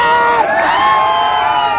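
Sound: crowd applauding and cheering

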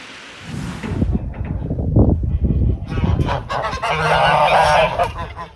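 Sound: geese honking

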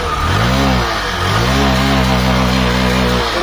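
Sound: Hero Passion Pro BS6 motorcycle engine running after kick start

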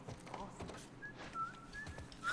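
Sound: character whistling in The Last of Us video game

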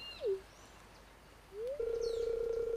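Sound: parrot chirps in video game Stardew Valley

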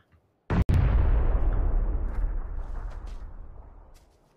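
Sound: grenade explosion in a video game

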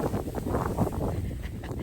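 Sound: cold wind blowing in the snow

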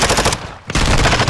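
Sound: gunfire in the video game Call of Duty

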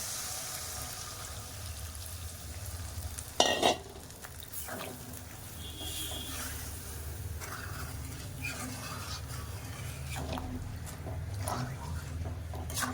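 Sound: water added to sizzling mango chicken curry

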